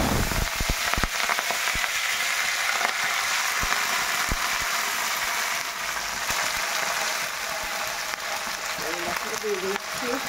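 Potatoes, green peas, beans and spring onions hit hot oil in a kadai, giving a loud, continuous sizzle with scattered sharp crackles and clatters. A voice is heard briefly near the end.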